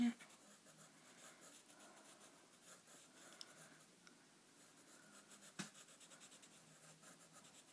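Pencil scratches softly across paper while filling in an eye on a Yorkie dog drawing, faint rhythmic strokes with a quiet background of a distant TV and occasional voices.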